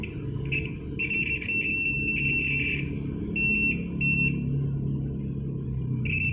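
Homemade battery-powered buzzer circuit tester sounding in a series of shrill electronic beeps, some short and some held, over a low constant background rumble.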